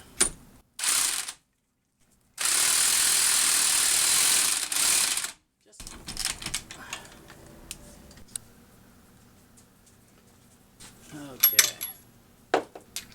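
Ratchet tightening a new 22 mm strut nut during front strut replacement on a 2013 Toyota Prius V, with loud sustained mechanical bursts followed by scattered clicks and metallic clinks, close up.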